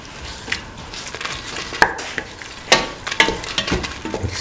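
A spoon stirs a split chickpea and bell pepper stew in a pot, with soft scraping, a faint background sizzle and scattered sharp clinks against the metal at uneven intervals.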